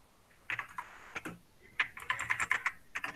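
Someone types a ping command on a computer keyboard, with a burst of quick keystrokes, a pause, then a denser run of close, crisp clicks, no voices.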